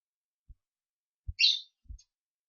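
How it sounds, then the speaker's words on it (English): A pet bird gives a single brief, bright chirp during a quiet podcast recording, close to the microphone, set between a few soft low thumps. "The bird that you hear is Billy Bob"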